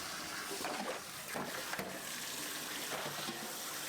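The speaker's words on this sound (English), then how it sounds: "Always wash your rice until the water comes out clear." Rice being washed under a running kitchen tap: a steady stream of water splashing and sloshing into a sink, close and continuous, with a few louder swishes as the grains are stirred.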